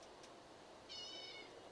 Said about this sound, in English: I hear my cat meowing